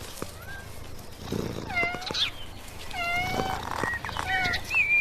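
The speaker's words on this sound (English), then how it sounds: "Cats are strangely addicted to this fragrant herb." Several cats meow around fragrant catnip, a series of clear, fairly close, rising and falling cries overlapping one another over a few seconds, with no talking.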